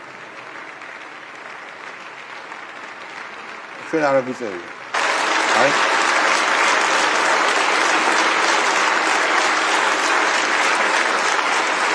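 Steady, dense applause from a studio audience in a played-back video rises sharply partway through and continues loudly to the end, with people talking over it.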